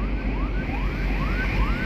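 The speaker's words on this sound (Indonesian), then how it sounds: "ada ambulan tuh." An ambulance siren wails in repeated rising sweeps, about five cycles, steady and fairly close over low road rumble on a rough road, with no talking.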